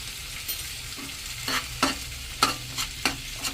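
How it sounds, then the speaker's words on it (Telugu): Fish pieces frying in hot oil as the other side cooks, with a steady sizzle broken by about seven sharp bursts of spatter or utensil stirring, close and fairly quiet. "ఇట్లా ఇంకో సైడ్ కూడా వేయించుకుందామండి."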